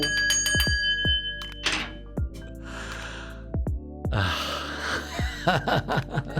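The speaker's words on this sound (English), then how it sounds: "Ring that bell." A singing bowl gives a bright metallic ring with long sustained overtones, struck several times in quick succession with soft rustling and shuffling between strikes.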